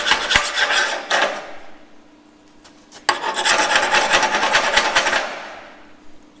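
Chipping hammer knocking dross off a freshly cut steel roof beam, heard as two bursts of harsh scraping and rasping metal knocks, close and loud, with a short pause between them.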